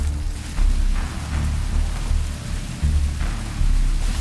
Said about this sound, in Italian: comincia a piovere